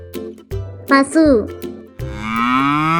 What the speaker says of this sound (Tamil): பசு,